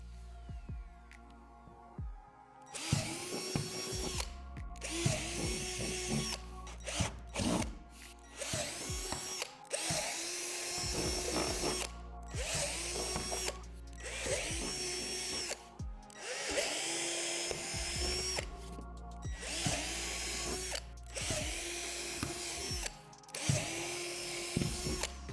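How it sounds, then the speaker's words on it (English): A power drill with a 3/8 bit bores divots through a plastic deck panel of a backyard playset in a long series of short whining bursts, each winding up and down, close and steady with no talk. "drill out the 9 divots using a 3/8 drill bit going from the top down"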